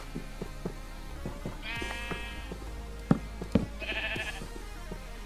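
Sheep bleat in Minecraft, with two nasal wavering calls rising over a low humming background and a few soft thumps, the animals sounding close by.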